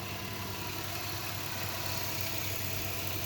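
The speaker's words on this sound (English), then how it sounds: "So I just have it idling." A car engine idling with freshly mixed coolant in the system, a steady low rumble with faint mechanical vibration, continuous and close, with no talking.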